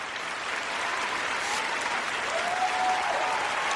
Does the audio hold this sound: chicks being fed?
no